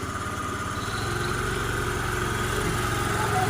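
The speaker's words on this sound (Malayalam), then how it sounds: "മമ്മിയുടെ വളരെ നാളത്തെ ആഗ്രഹമാണ് സ്കൂട്ടർ ഒന്ന് ഓടിക്കണം" A scooter engine idles steadily up close in a home courtyard, its low rhythmic putter holding even throughout with no talk over it.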